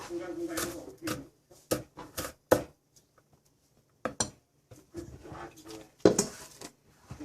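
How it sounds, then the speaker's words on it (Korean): Sharp, irregular knife strikes against a cutting board while chopping onions for ssamjang, coming in short bursts with pauses between them, close by, mixed with faint kitchen clatter. "이 칼질은 숙련된 사람만이 쓰는 법이니 천천히 천천히 하세요."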